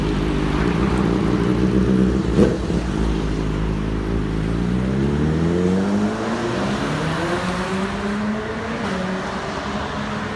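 A BMW S1000RR motorcycle engine revs loud and close, its pitch sweeping up and down through steady throttle blips with a sharp pop near the start and no talking.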